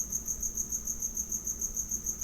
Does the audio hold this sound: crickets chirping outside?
yes